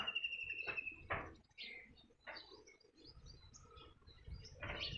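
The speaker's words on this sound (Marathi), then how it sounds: "आमची मैना" A myna calls on a farm with faint, scattered chirps and whistles over a soft background of insects and outdoor noise.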